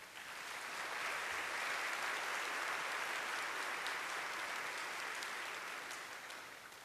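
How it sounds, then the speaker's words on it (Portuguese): An audience at a cultural forum on books and reading in Brazil breaks into a round of applause that swells and then softens, sounding fairly distant and subdued throughout. "a quem pedimos uma salva de palmas"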